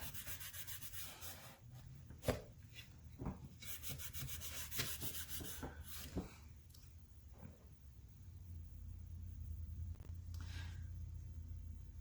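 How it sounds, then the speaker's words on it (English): Oil is rubbed by hand into a Baltic birch wood bead board, a soft, continuous close-up friction and swishing with a few louder knocks and handling bumps, heard alone without talk. "So I just keep rubbing until I'm not seeing any other oil sitting around"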